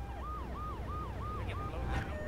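Ambulance siren in GTA III, a wailing yelp that repeats in even rises and falls about four or five times before breaking off. Engine rumble runs beneath it.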